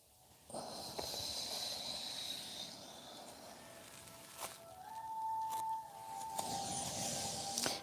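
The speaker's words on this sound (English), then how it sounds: "Breathing through your nose." Slow nasal breathing during a yoga session, a soft airy inhale and exhale close to the ear, steady and quiet with faint background hiss.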